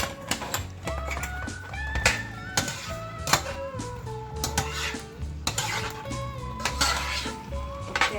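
A spoon scrapes and clinks against a pan while sweet and sour pork sauce thickened with cornstarch and water is stirred, in a steady run of metallic taps and clatters heard close up, with music playing underneath.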